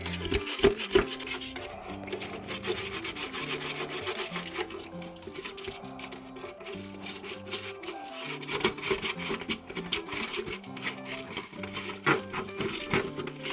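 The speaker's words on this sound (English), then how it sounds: "Let's just scrub a bit down in here. And break up all that nasty stuff." A Nurture Right 360 egg incubator is scrubbed inside to break up dried grime, producing continuous close brushing and scraping strokes in a steady, uneven rhythm throughout, with no talking.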